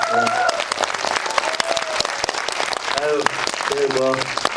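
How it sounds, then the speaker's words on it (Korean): Theater audience at a film stage greeting applauds steadily, a crackling field of claps with a voice speaking over it at moments. "박수 한번 부탁드리겠습니다"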